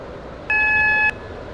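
A Stepford Connect train in a video game sounds a single sustained electronic beep lasting about half a second over a low running hum.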